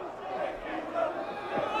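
A wrestling arena crowd at a hardcore XPW event roars steadily in approval, a dense wash of cheering voices without pause.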